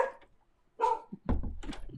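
A dog gives a few short, close barks indoors, with a brief yip followed by a couple of thumping woofs.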